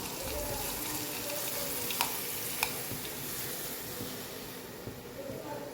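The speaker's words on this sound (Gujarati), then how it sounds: "ગેસની ફ્લેમ બંધ કરીને આપણે વઘાર ઢોકળામાં એડ કરી દઈએ." Hot oil tempering poured onto sandwich dhokla crackles and sizzles steadily close by, with a couple of sharp clicks cutting through the hiss.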